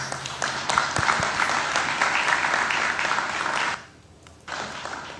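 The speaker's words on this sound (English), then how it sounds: "We can give him a round of applause." Steady audience applause welcomes the Prime Minister of India at a CARICOM and Guyana event, breaking off briefly near the end before resuming.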